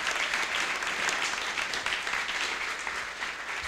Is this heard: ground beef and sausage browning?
no